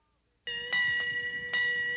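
A ship's bell rings in clear, bright strokes spaced in a pattern, each tone ringing on and overlapping the next, loud and alone with no talk.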